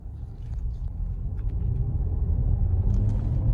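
A Skoda Slavia turbo petrol engine pulling from about 1800 RPM, a low steady rumble that builds gradually in loudness from inside the moving car.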